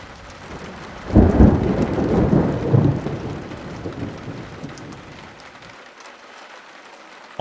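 Thunder cracks and rolls loudly over steady rain, the rumble swelling then fading away into soft, continuous rainfall.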